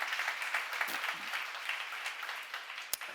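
Applause from a church seminar audience, a soft, even spread of clapping heard from some distance in a reverberant room, fairly quiet and steady, with a sharp knock near the end.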